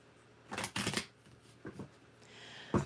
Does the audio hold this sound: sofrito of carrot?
no